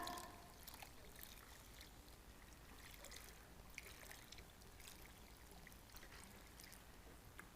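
Rinsing food by pouring a generous stream of water through a sieve outdoors, a quiet steady splash and patter lasting several seconds, heard alone without speech.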